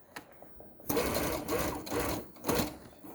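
A sewing machine stitches slowly through a thick tote bag handle in short bursts of whirring, close and clear with pauses between runs.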